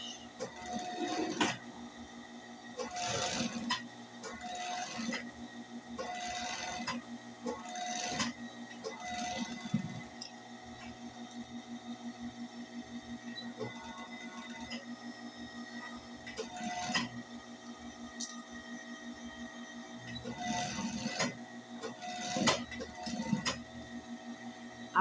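Sewing machine topstitching near the needle, with short bursts of fast mechanical stitching separated by pauses and a steady hum, moderately loud and close, with someone talking between runs.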